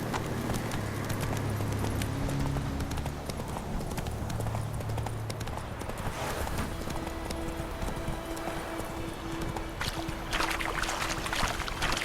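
A horse gallops in The Witcher 3: Wild Hunt with steady, close hoofbeats running throughout, layered with in-game ambience and a few faint tonal game sounds.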